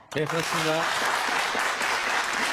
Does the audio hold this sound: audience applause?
yes